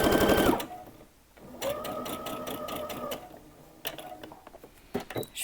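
Sewing machine stitching a detachable collar, with a close rapid mechanical stitching burst, a pause, then a longer even run of needle clatter followed by a few short bursts and clicks.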